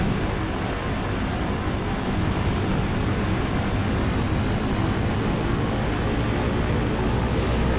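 Thranda Cessna C208B turboprop in X-Plane 11 during takeoff: a loud, steady, dense roar of engine and propeller holding constant throughout, with no talk.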